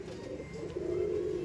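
An old-type giribaz pigeon gives a steady low cooing that swells in the second half, close by and soft, with no talking.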